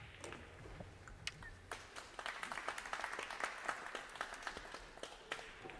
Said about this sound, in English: A few applause for her as she's playing in her hometown